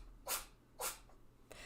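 A pet sneezes twice in quick succession, followed by a fainter third sneeze, close and fairly quiet with no voices.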